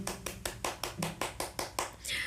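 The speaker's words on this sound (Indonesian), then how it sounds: "Yay, tepuk tangan dulu" Sharp hand claps, about ten in a steady, evenly spaced rhythm, close and distinct, ending in a brief burst of noise.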